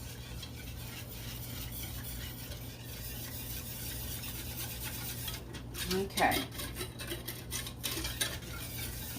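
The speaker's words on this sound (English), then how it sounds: "And all you have to do now is just stir." Spoon stirring lemon juice, sugar, cornstarch and water in a pot on medium heat, producing soft repeated scraping and clinking against the pot that grows louder toward the end, with a brief spoken word.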